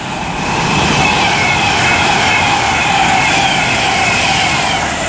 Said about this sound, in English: It's going to be a Pendolino from Liverpool Lime Street to London